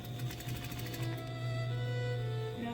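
A regular-foot sewing machine runs a straight stitch along a line on a suit jacket, a steady, quiet mechanical whir with a fast rattling pulse near the start, heard alone.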